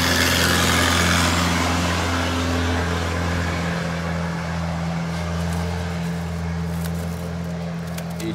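An Isuzu 6BG1 six-cylinder marine diesel engine, gearbox removed, runs steadily at idle with a deep, even drone and constant clatter, loud and close throughout.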